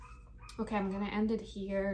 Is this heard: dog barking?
yes